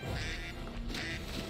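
A cartoon duck quacks in a short burst, loud and close, within an SMG4 Mario zoo animation.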